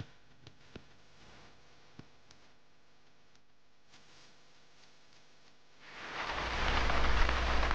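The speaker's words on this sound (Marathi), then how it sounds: "पाऊस प्रचंड." Heavy monsoon rain falls near the hill village of Bamnoli, beyond Satara's Kas plateau. After a quiet stretch with a few faint ticks, a loud wash of downpour swells in and dominates the last couple of seconds.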